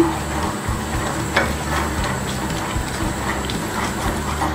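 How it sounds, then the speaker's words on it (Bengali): Custard powder being stirred into milk with vermicelli for a sweet Bengali dessert, a continuous soft scraping and swishing of a spoon in the pot, with occasional clinks against a steady background hiss. "কাস্টার্ড পাউডারটা দেওয়ার সময় ভালো করে নাড়তে হবে নাহলে জমাট বেঁধে যাবে"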